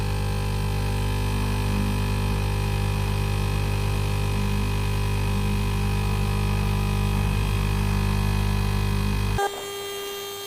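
A small fume extractor unit built into a soldering station runs with a steady, even hum that sits loud and close, then cuts off abruptly near the end, leaving a faint residual buzz.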